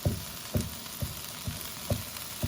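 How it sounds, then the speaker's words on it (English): Steady close sizzling of Persian rice frying in a pot, with soft regular thumps of a wooden spoon about every half second. "You can hear it sizzling."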